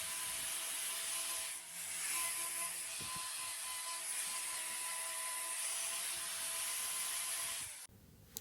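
A cow's hoof is trimmed with a power grinder, a steady high abrasive whine rubbing against the hoof wall for several seconds, close and continuous, ending with a brief clunk.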